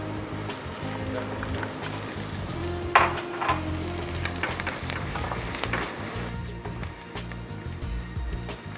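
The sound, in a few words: red radicchio being tossed and sizzling in pan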